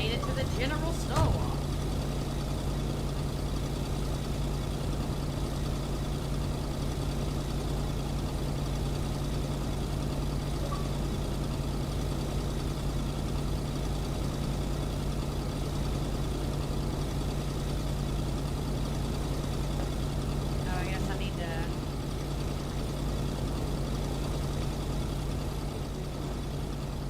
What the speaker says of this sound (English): The truck was running on fumes.